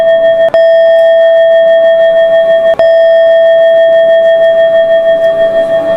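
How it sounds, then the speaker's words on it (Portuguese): A loud electronic doorbell rings as one sustained tone, with two sharp breaks where it restarts, close and piercing. "A campainha da casa, um som que eu nunca tinha ouvido, começou a tocar."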